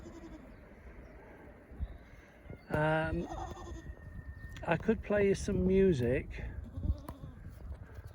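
Goats bleat loudly at close range on a Sunday afternoon, several wavering calls overlapping, while someone talks between and over them.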